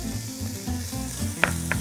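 Onion tipped onto deeply browned meat in a pot for harira soup, sizzling loudly and close for a couple of seconds, with a couple of brief sharp clicks near the end.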